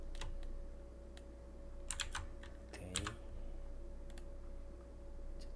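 Computer keys tap in a few quick clusters of distinct clicks, with short pauses between bursts, against a quiet background hum while working in Blender.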